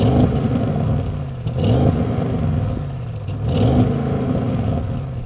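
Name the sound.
Audi RS7 engine revving to soft limiter, sports exhaust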